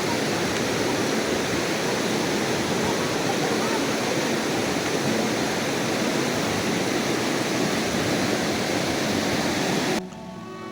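Floodwater from a swollen river rushes along the banks in Kilembe, Uganda, a dense, steady roar filling the whole clip, close and loud, before dropping slightly in level near the end.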